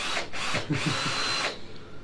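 A power drill whirs steadily and fairly loudly, with brief dips in pitch as it bites and eases off, running nearly continuously for about two seconds.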